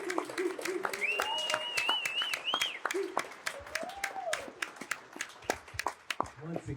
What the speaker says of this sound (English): Let's first give a big round of applause and Chicago welcome for Al Burts.